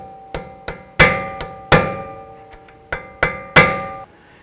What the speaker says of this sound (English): we're going to use this punch right here to release that notch in the spindle nut